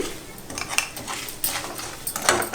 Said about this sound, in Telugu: నెక్స్ట్ మొత్తం ఆయిల్లోకి మిక్స్ చేసేసుకోండి.